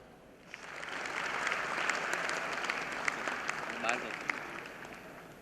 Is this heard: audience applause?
yes